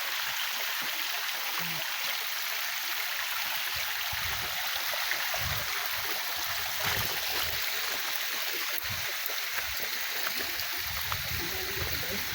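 A river stream flows steadily nearby, a continuous bright rushing and trickling of water with occasional soft thumps, no voices.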